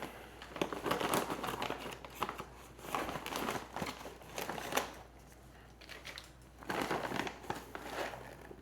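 A bag of Lechuza PON mineral substrate is cut and pulled open, giving bursts of crinkling plastic and rustling grains, close and moderately loud, with short pauses between handling movements.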